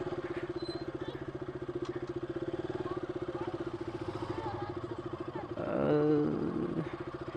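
A 2016 KTM RC 200 motorcycle engine runs with a steady, rapid single-cylinder pulse close by, swelling briefly in a louder rev late on before settling back.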